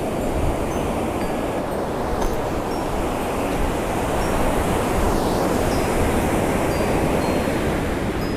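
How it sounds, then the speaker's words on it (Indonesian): Ocean waves wash steadily onto the beach at Laut Brawah, a continuous broad roar of surf with gentle swells and no voices. "kita ingin duduk santai sambil menikmati keindahan daripada pantai Laut Brawah"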